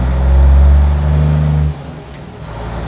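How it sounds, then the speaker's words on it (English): A large delivery truck hauling pallets of wood rumbles loudly past outside in a residential neighborhood, its heavy low engine roar swelling then dropping away abruptly as it moves off. "we will get these random giant trucks driving through,"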